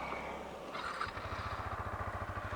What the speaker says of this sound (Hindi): अगर मैं आपको एग्जॉस्ट नोट इसका सुना पाऊँ